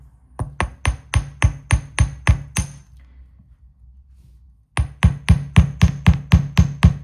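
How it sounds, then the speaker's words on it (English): A small hammer strikes metal earring wire in quick, even rows of sharp, close taps, pausing for about two seconds before another steady run of blows. "So hammer the point first."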